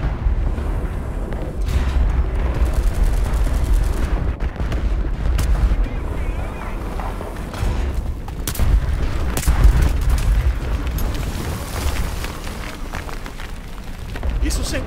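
Gunfire and booming bombardment in the tank battle game War Thunder, with heavy rumbling explosions and scattered shots rolling continuously through a rainy map, loud and layered with someone talking over the action.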